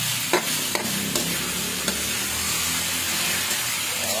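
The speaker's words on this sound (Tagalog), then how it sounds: "Chicken na Bicol Express mga Papaduds. Kailangan muna natin igisa." Chicken sautéing in a pot for Bicol Express, a steady close sizzle and hiss with a few sharp scrapes and knocks of a spoon stirring, with no talking.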